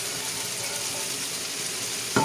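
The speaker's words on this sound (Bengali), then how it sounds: "এখন মাছ দিয়ে দিচ্ছি" Lightly fried fish goes into a vegetable curry that sizzles in the pan, giving a steady, moderate hiss with a brief clunk at the end.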